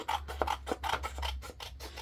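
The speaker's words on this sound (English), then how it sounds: "Let's go ahead and cut these ones." Scissors cut through paper pages to halve them, a rapid series of eight or so crisp snipping and rasping strokes in a steady rhythm, close and clear, with a low background hum.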